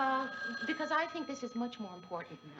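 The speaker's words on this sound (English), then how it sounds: "Mary, why aren't you answering your phone?" A telephone bell rings faintly in the background of a home, partly buried beneath a person talking in the foreground.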